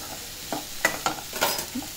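Finely chopped ridge gourd frying in oil, stirred in a few quick scraping strokes over a soft steady sizzle at close range.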